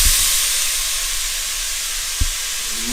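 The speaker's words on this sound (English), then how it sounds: "now we're going to turn this down to a medium simmer" A pot of creamy tortellini and sausage soup simmers, giving a steady steamy hiss with a few low bubbling pops and one soft knock, close by and with no talking.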